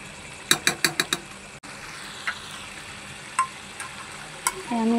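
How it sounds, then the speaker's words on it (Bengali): Chicken for chaat, sitting in the water it has released, gets stirred in a pan: a quick run of five sharp clacks of a utensil, then a low simmering sizzle with occasional scrapes. "এটাকে ভালোভাবে নাড়িয়ে নেব।"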